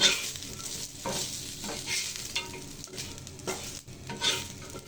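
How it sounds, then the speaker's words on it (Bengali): Dried churi fish frying and being stirred on a hot tawa, a steady close sizzle with repeated scraping and stirring strokes, no voices. "ভালো করে ভেজে নেব শুটকিগুলো।"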